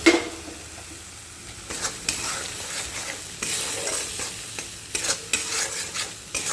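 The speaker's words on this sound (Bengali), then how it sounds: "চলো এই মশলাটা দিয়ে ভালো করে এবার কষে নেবো এর মধ্যে নুনটাও অ্যাড করে দেবো" Spice masala with salt stir-fried in oil in a pan, a sizzling bed under frequent clattering spoon strokes against the metal, several sharp scrapes in quick succession, close and without speech.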